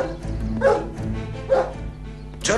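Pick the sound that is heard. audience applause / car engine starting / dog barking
dog barking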